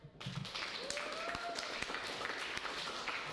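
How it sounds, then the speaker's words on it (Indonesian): A classroom audience claps for a student group, producing a steady wash of scattered hand claps with a few sharper taps and no voices. "Kita kasih aplaus dulu untuk kelompok"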